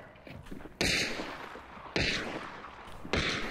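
Distant gunfire in the Hunt: Showdown video game: three sharp, booming shots spaced roughly a second apart, each with a rolling echo tail.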